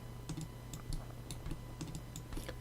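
Computer keyboard keys pressed for a shortcut during 3D modeling work in Maya, giving a quick cluster of soft, close clicks and taps over a low steady hum, with no voices.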